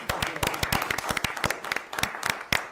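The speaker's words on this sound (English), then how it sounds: "I'm just give him a round of applause for the work he's done" A small group at a town select board meeting gives a round of applause, distinct individual claps in a loose, uneven rhythm, fairly close and sparse rather than a dense roar.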